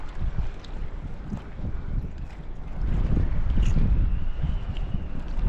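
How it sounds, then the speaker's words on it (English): Wind gusts buffet across an open wharf on a cold morning, a steady rough rumble that swells louder midway, with no voices. "It's just a bit too breezy and there's no shelter over here at all."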